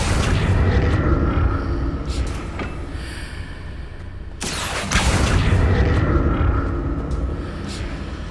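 An Accio spell cast in the Hogwarts Legacy video game lands as a loud, sudden magical burst midway, set against a continuous rumbling, booming game soundscape that swells again afterward.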